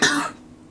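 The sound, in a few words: cough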